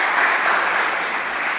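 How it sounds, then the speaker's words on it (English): An audience applauds a panel at a talk on content in a post-truth world, with dense, steady clapping throughout this brief moment and no voices. "I think they deserve a round of applause."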